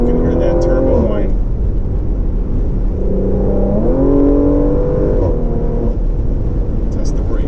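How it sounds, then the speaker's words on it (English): Turbocharger whine from a 2020 Porsche Macan GTS accelerating, a rising whistle over loud engine revs that climbs through gear changes, with someone talking from inside the car. "You can hear that turbo whine."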